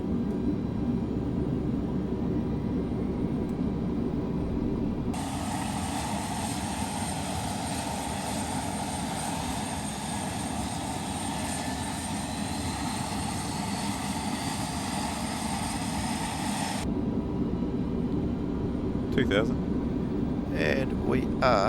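A 1957 Convair CV-580 airliner's turboprop engine spools up during start with a rising whine and steady roar over a constant cockpit hum, sustained for about twelve seconds before dropping away, with brief clicks near the end.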